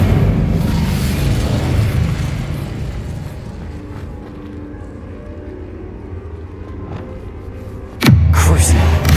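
A low, steady magical rumble in Hogwarts Legacy fades slightly, then an Incendio fire spell bursts out as a sudden loud whoosh near the end.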